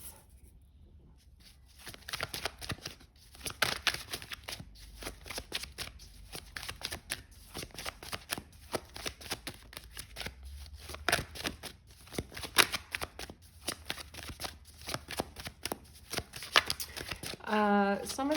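Tarot cards being shuffled and pulled for a reading, a steady run of papery riffling and slapping flicks that carries on throughout, with a person talking over the shuffling.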